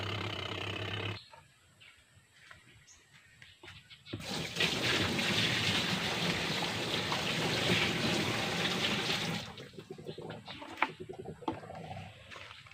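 Water gushes steadily into a washing machine tub under repair, a loud broad rush lasting several seconds between quieter stretches of handling noise, with no talking.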